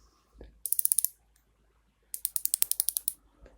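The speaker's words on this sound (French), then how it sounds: "c'est un gentil petit cliquet" A small, thin reversible ratchet for Surge 2 accessories gives two quick bursts of about eight crisp, evenly spaced clicks each, close and clear with a short pause between them.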